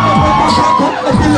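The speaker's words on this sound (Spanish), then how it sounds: "Mira cómo grita la gente." Crowd shouting and cheering at an underground freestyle rap battle, a loud, dense wall of voices whooping and yelling throughout with no break.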